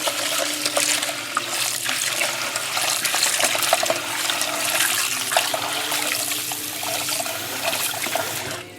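Rice is rinsed under running water, with a steady splashing, trickling flow and sloshing grains close up, continuous for the whole stretch and no talking.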